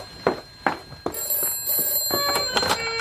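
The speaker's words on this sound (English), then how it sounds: "are we going to answer the phone?" A telephone bell rings in a detective agency office in a radio drama, with several short rings in an irregular rhythm followed by a longer sustained ringing, loud and near.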